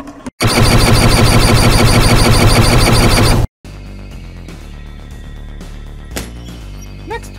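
A cartoon gun fires in an animated space comedy: a loud, buzzing rapid-fire volley lasting about three seconds cuts off abruptly, leaving a quieter backdrop with a few faint clinks.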